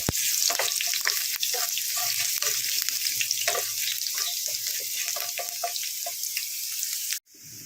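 Four or five cloves of chopped garlic sautéing in a pan, a continuous bright sizzle with intermittent scraping and stirring clicks, close and steady, ending with an abrupt cut to a quieter tone.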